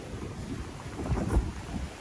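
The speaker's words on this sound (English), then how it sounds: "It might be too windy here." Low, rumbling buffeting of wind against a microphone, gusting unevenly and swelling briefly near the middle, with no one speaking.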